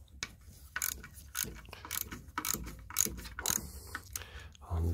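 A hand ratchet undoing half-inch alternator screws on a Triumph Stag, rapid close clicking pawl strokes in irregular bursts with short pauses, loud and clear, no talking.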